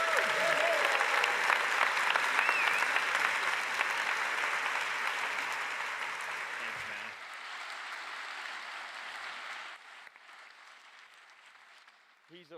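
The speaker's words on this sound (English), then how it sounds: "Please give a very warm round of applause to the Executive Director of Workplace Pride." Audience applause fills a conference hall at a human rights event, loud and steady at first, then gradually thinning and fading over about twelve seconds.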